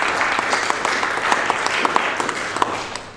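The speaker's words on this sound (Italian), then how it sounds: "vorrei fare un applauso di ringraziamento" Steady applause from a crowd at an art exhibition event, continuous clapping with a few sharper individual claps standing out, no voices over it.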